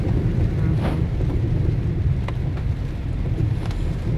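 Heavy rain and wind batter the outside of a car during a downpour, a dense, loud and constant roar of drumming water and buffeting air with no talk.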